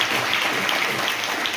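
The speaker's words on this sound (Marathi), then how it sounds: "एकदा सगळ्यांनी स्वतःसाठी टाळ्या जोरात वाजवा" A crowd of teachers and students applauds at a district council school event, steady dense clapping that fills the whole stretch, loud and close, with no break.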